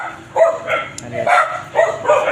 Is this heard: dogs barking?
yes